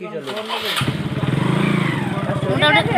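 A motorcycle engine comes in close and grows louder as it passes, under voices talking nearby.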